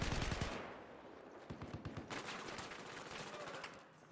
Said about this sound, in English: I think he's using the Ace 52 there, and that slower rate of fire just really cost him that fight